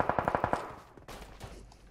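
Automatic rifle fire in the shooter game PUBG Mobile: a rapid burst of about six evenly spaced shots, loud and close, followed by a fading tail and scattered softer noises.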